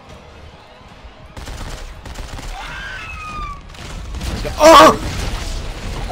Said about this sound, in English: I just RPG'd myself. Got a grenade launcher.